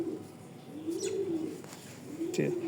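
A male racing pigeon coos in low, repeated throaty phrases nearby, with a few faint chirps in the background.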